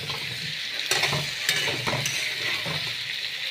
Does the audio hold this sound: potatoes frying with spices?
yes